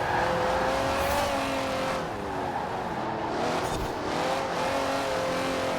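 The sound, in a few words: old Jaguar car engine in Forza Horizon video game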